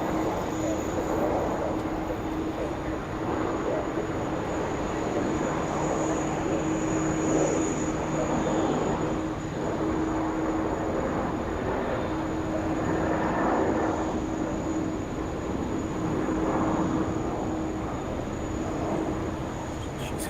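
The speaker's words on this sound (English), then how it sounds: "This is Retro Roo, Qantas 737 departing off there of runway 19 left" A Qantas Boeing 737 jet departs runway 19 left at Brisbane Airport, its engines a sustained broad roar with a steady whine, heard from a distance and holding level throughout without speech.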